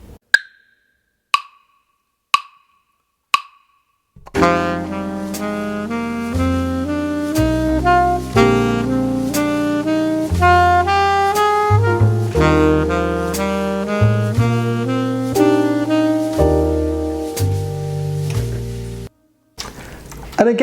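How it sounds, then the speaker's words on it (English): A few sharp clicks, then an alto saxophone runs quickly up and down Dorian, Mixolydian and major scales in a steady stream of notes, close and clear, ending with a pause. "if I was to play the scale of each one, it would sound like this."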